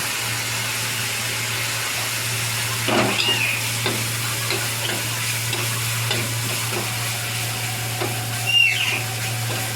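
Continuous crackling sizzle of ginger and garam masala powder frying in hot oil, close up, with occasional scraping stirs and a low steady hum underneath.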